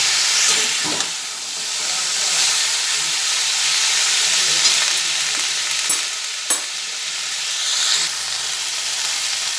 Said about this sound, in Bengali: এটা নাড়াচাড়া করে করে ভেজে নিচ্ছি পুরো মশলাটাই সবজিটার মধ্যে লেগে গেছে